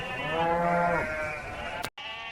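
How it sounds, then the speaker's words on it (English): A sheep bleats loudly and close in one long wavering call, followed by a brief second bleat after a short gap. "What meaneth then this bleating of the sheep in mine ears, and the lowing of the oxen which I hear?"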